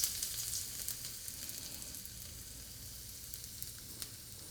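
Garlic and hot pepper hit hot oil in a pan, giving a soft, steady sizzle with faint crackles and small pops, quiet and close, with no one speaking.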